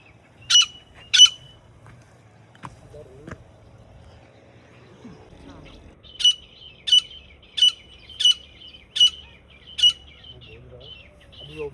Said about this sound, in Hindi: जैसे ही हमने शिकार के लिए जो तितर बैठाया है वो बोलियाँ अपनी निकालेगा।